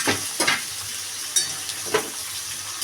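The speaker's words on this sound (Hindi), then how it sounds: "धीरे धीरे चलाएंगे" Diced potato and jackfruit fry in oil with bay leaf and green chillies while being stirred in a pan, giving a steady sizzle broken by a few scraping strokes.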